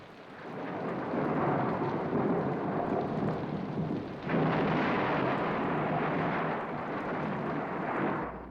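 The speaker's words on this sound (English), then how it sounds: "The storm's really building up." Heavy rain pours steadily with deep thunder rumbling throughout, a loud continuous storm with a sharp surge partway through.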